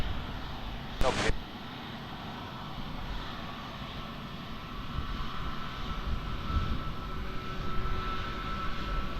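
A plane landing at Lisbon Airport gives a steady, broad engine roar at moderate distance that swells slightly toward the end, with a short burst of radio talk near the start.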